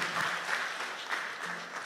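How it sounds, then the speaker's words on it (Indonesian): A church congregation at a retreat session gives a brief burst of steady, full applause, fairly even throughout, with no talking over it. "Berikan tepuk tangan buat Yesus Tuhan kita."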